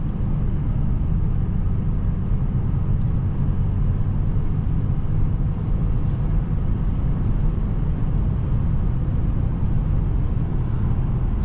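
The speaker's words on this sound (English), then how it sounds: "So I'm really surprised with aerodynamic sound and noise levels of this car." Steady wind and road roar inside a 2021 Mercedes S-Class AMG cruising at about 130 km/h, a constant broadband rumble that holds level throughout with no talking.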